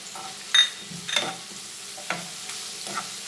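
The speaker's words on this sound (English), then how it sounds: "cook this till the tomatoes are nicely soft" Tomatoes cooking in a pan for Goan fish caldeen: a soft background sizzle broken by several short scraping stirs of a spoon against the pan, fairly close, with no voices.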